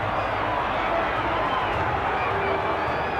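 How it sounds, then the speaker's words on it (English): A large boxing-arena crowd urges Muhammad Ali on against Bonavena, a continuous loud roar of cheering and shouting with no clear breaks and a commentator's voice blended in. "Crowd exhorting Ali on."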